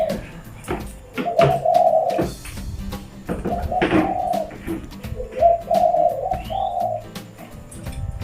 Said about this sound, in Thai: นกต่อก็คือนกต่อ ขันไม่หยุดเลย